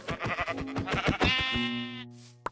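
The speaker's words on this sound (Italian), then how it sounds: "Ci sono delle pecore." Bleating from a flock of blocky video-game sheep in Minecraft. A quick cluster of overlapping, wavering bleats and clicks builds into one longer sustained bleat, heard clearly without talk.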